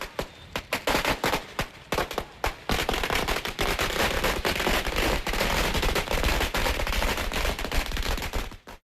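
Firecrackers burst in dense, rapid crackling volleys at an outdoor political celebration in Anthiyur, a loud continuous barrage with brief gaps before it cuts off abruptly.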